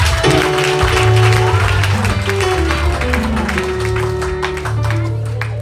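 A church congregation claps in steady rhythm, loud and close, the many hands blending into a dense patter over sustained keyboard chords and low bass tones that fill the room throughout.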